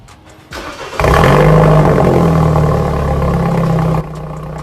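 BMW 328i F30 with an MPE exhaust and resonator delete, engine revving loudly up close after a quiet start, a strong throaty drone that holds steady for several seconds before dropping off.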